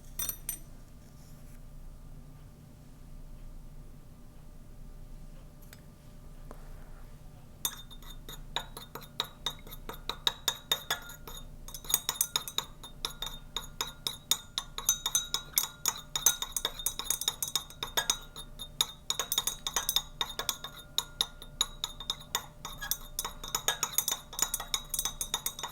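A glass stirring rod clinks against laboratory glassware in quick, irregular runs of light, bright ticks after a quiet stretch of several seconds, close and fairly soft, with no voices.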